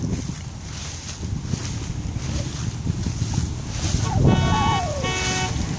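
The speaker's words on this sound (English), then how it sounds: "And there's another person honking" A car horn sounds briefly over steady traffic and wind noise outdoors, a short toot from nearby with a faint tonal sweep.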